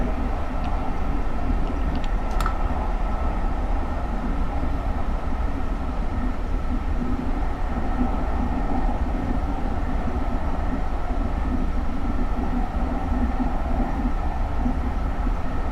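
A GE Silverliner IV push-pull commuter train on SEPTA's Trenton Line in Train Simulator 2019 runs steadily, a continuous low rumble of wheels and motors with one brief sharp high squeal early on.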